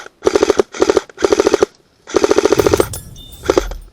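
Airsoft rifle, a Specna Arms J73, firing rapid bursts outdoors during a capture-the-flag game, four or five loud close volleys of quick repeated shots with short gaps between them.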